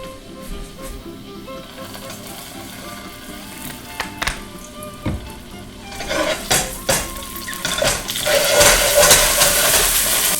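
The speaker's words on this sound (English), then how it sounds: "We're gonna take these tomatoes, we're gonna put them on a pan, and we're gonna start frying them." Tomatoes going into oil in a pan over an open fire, with clattering of pan and utensils and a sizzle that builds to a loud, broad hiss in the last few seconds, close up.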